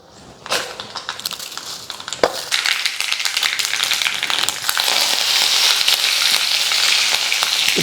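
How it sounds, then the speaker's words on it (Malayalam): Mustard seeds fry in about two spoons of hot coconut oil for a curry, opening with a few sharp pops and settling into a loud, steady crackling sizzle close by. "ഇനി കടുക് വറക്കാം. ഒരു 2 സ്പൂൺ വെളിച്ചെണ്ണ ഒഴിച്ചു."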